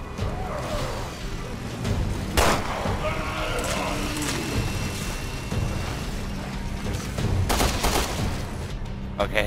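Gunfire in the survival horror game Resident Evil Revelations 2, with several sharp shot bursts spread across a busy game soundscape of rumbles and background noise, fairly loud throughout.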